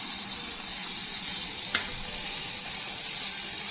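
Coconut paste stirred into a curry of elephant foot yam frying in a pan, giving a steady close sizzle with one brief clink of the spoon partway through.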